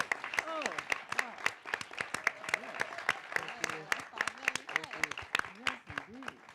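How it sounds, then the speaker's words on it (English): Audience applause for a reparations task force at a San Francisco civic event, sharp individual claps heard close alongside ongoing speech and voices in the room. "I'd love to give you and the Reparations Task Force a round of applause."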